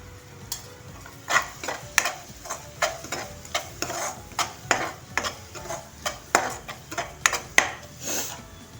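Onions frying in a pan with turmeric for Maharashtrian green chilli thecha, with a soft sizzle beneath repeated sharp scrapes and taps of a spoon stirring, close up and irregular.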